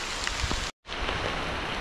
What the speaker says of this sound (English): still keep dripping raindrops on you